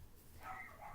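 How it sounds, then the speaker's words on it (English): A cockapoo puppy yips and barks from downstairs, faint and distant, a short burst of high yaps in a quiet room. "if you hear some crazy barking and stuff happening in the background,"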